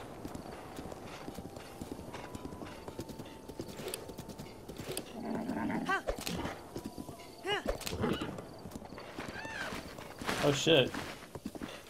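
Steady clip-clop of horse hooves at a quick pace with a whinny in The Legend of Zelda: Breath of the Wild, set against background game music, and a person briefly exclaiming.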